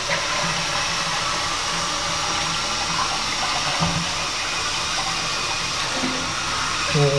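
A house toilet in Plano, Texas, is flushed during a home inspection. Water rushes and hisses loudly and steadily at close range, then keeps running as the tank refills, with no talking.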